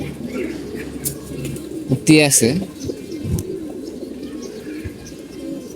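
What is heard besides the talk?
young pigeons cooing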